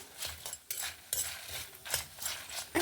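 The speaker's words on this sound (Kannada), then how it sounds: "ಸರಿ ರೋಸ್ಟ್ ಮಾಡ್ಕೊಂಡ್ಬಿಡುವ ಫ್ರೆಂಡ್ಸ್" Coconut and chana dal roasting in a pan are stirred with a spoon, producing steady close scraping and rattling strokes with a soft dry sizzle underneath.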